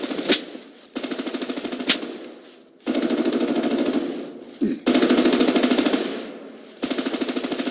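Automatic gunfire from the video game America's Army Proving Grounds comes in loud, rhythmic bursts of rapid shots, separated by brief gaps and a few single sharp cracks.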